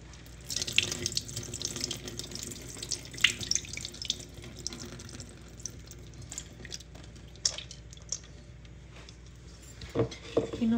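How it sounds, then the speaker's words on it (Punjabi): Urad dal being washed under a running kitchen tap, with water streaming and splashing into a sink, wet squishing as the lentils are rinsed by hand, and occasional clinks of the bowl, fairly close. "ਸੋ ਮੈਂ ਇਹਨੂੰ ਹੁਣ ਦੁਬਾਰਾ 1 ਵਾਰੀ ਪਾਣੀ ਦੇ ਨਾਲ ਕਲੀਨ"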